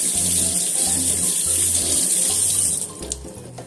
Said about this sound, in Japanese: かぼちゃをね、洗いましたよ。